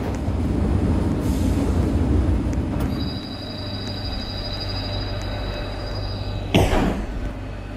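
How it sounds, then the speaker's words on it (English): Airport transit train in Roblox's Westwood Airport Transit pulling away from a station platform: steady rumbling rail noise with a sustained high electric whine, a brief burst of noise near the end, no talk. "The train on platform 4 is departing soon."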